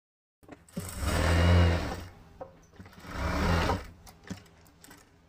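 An electric sewing machine stitches a georgette long kurti along a marked line. It runs in two separate whirring bursts, with a short quiet pause between them and no talking.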